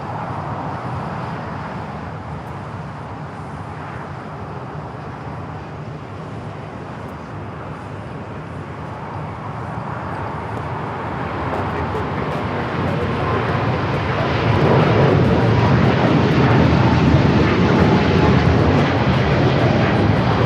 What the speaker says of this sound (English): 777-300ER already rolling down at 25 right